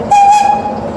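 Grand Sierra Railroad locomotive gives a single steady horn or whistle tone lasting about half a second, moderately loud over a rumbling train background.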